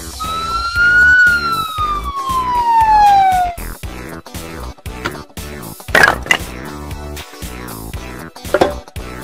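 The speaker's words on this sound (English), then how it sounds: "Ambulance." Ambulance siren, a loud up-and-down wail from a toy or sound effect for a street vehicles puzzle, followed by clattering knocks and clicks.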